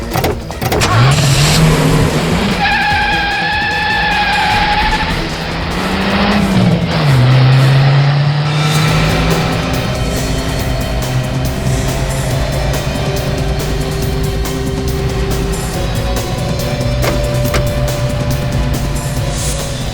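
A car's engine revs and pulls away loudly, with tonal engine sweeps rising and falling before settling into a steady running drone with a faint whine; no talk over it.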